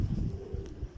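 A teddy pigeon coos in a breeder's loft, soft low throaty pulses repeating close by, with no talk over them.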